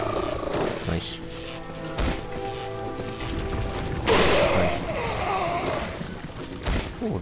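Rapid rifle fire in Resident Evil 4 comes as sharp, loud cracks in quick succession, with other creature and impact sounds around them and a voice speaking between shots.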